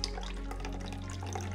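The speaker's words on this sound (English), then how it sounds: "Grab your glass and we'll pour that in there." A raspberry daiquiri poured from a shaker into a glass, a brief liquid trickle with a few drips, close and fairly quiet, no speech.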